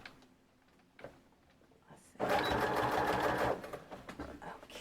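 Sewing machine back stitching on paper for a Christmas junk journal, a few soft ticks and then a loud, close run of rapid stitching that eases into shorter bursts.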